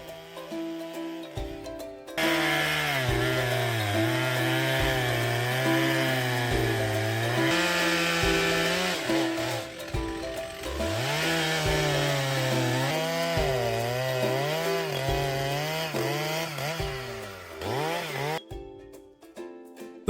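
A 52cc gasoline chainsaw roars close by, its pitch dipping and rising as it bites through a tree trunk, with a brief idle before cutting resumes.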